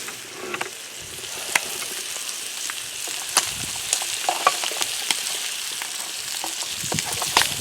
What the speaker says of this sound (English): These are frying up real nice.